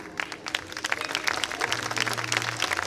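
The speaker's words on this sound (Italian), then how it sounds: "E un applauso più forte!" Audience applause at a talent show in Ficarolo, steady scattered clapping from a crowd across the whole stretch, with a low hum running underneath.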